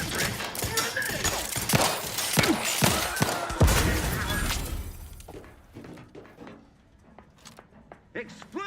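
A grenade explodes in the video game The Outer Worlds 2: a loud, dense burst of cracks and crashing debris over several seconds, gradually thinning into scattered clatter and a fading rumble.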